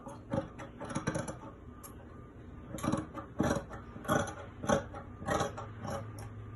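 Sharp scissors snipping through fabric while trimming a jumpsuit pattern at the shoulder line, a series of close, crisp cuts and clicks in irregular bursts with quiet pauses between.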